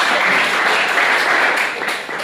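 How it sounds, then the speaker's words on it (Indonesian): A classroom group claps for a student in a university sociology lecture, a dense, steady burst of applause that fills the room at close range and carries on without a break, fading slightly at the end. "Aplaus buat Zaki."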